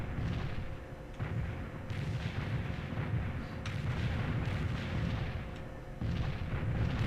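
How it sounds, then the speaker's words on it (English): Mortar artillery fire rumbles through a battle in the video game World in Conflict. Repeated muffled booms and blasts roll over a dense, continuous din with no clear pauses, fairly faint and with no speech. "Mortars will fire."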